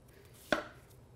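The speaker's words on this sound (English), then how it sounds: "And then what I do is I cut very thin slices." A single crisp knife chop slicing a peeled jicama block into thin slices, one sharp close strike against a cutting board in an otherwise quiet kitchen.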